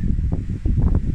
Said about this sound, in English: it is really windy out here